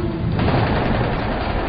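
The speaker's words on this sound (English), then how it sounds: "The MiG is pulling hard, trying to get his nose pointed in front of Ronan's Mirage to lead him with gunfire." A MiG fighter jet's cannon fires in a sustained, dense burst during a dogfight with a Mirage, loud and continuous with no talk.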